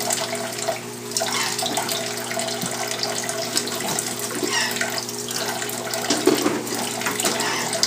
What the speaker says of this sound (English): He's taking himself a shower in the sink.